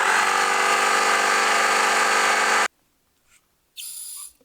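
An oil-free air compressor pumps air into a school-bus water plumbing system for a pressure test. Its loud, steady buzzing drone cuts off abruptly, followed after a pause by a short burst of hissing air.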